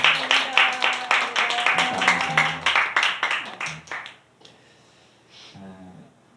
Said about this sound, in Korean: 감사와 축복으로 박수하겠습니다.